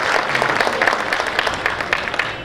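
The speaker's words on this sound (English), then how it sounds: "let's give him a huge round of applause." A seated audience at a book talk applauds to welcome bestselling author Gaur Gopal Das. The clapping is full and continuous, with some individual claps standing out throughout.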